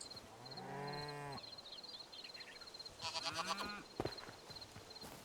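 Sheep and goats on a Hytale farm bleat in long, wavering calls, one near the start and another overlapping later, over a background of soft clatter and a repeating high tick.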